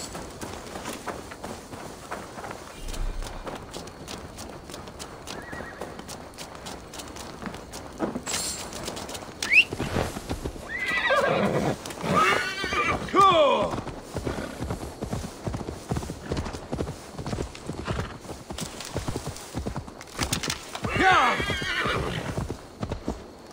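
A horse in the video game Assassin's Creed Valhalla snorts and whinnies loudly several times amid a busy clatter of hooves, with faint birdsong in the background.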